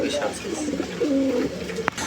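Fantail (lakkha) pigeons coo in a low, rolling murmur, close by, with a short sharp click near the end and faint voices in the background.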